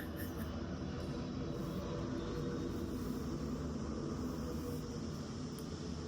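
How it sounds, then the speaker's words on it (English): Airplane passing overhead outdoors, a faint steady distant engine roar that holds evenly throughout with no talk. "it's a plane."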